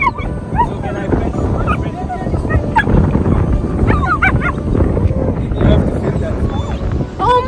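A German Shepherd and a giant Alaskan Malamute on a beach give excited yips, whines and short barks, scattered under near-constant talk from people and outdoor background noise.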